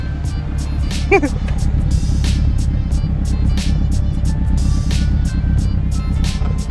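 A Subaru WRX engine idles steadily nearby while Seafoam is added, its low, even rumble going on throughout with a few light clicks and knocks over the top.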